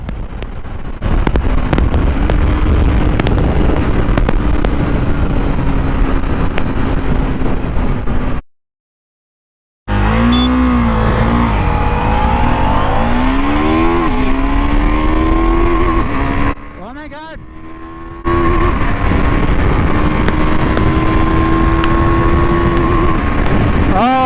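Duke 390 BS6 and Ninja 300 BS6 motorcycles drag racing, loud engines revving and rising through gears with wind buffeting, broken by two short dropouts, then one engine holding a steady high drone.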